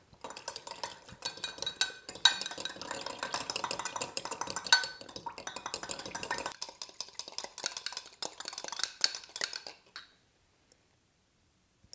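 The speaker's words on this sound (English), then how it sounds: "you want to take a fork and we're going to whisk this" Olive oil and lemon vinaigrette whisked briskly with a fork in a bowl, rapid clinking and tapping strokes for about ten seconds, then silence.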